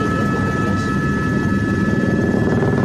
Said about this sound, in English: That is the helicopter that I was referring to that Nate Eaton rented out to fly over that